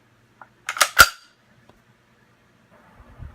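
A few sharp metallic clicks and a clack in quick succession as a Chiappa M1-22 carbine chambers a .22 round, close by, followed by quiet faint shuffling.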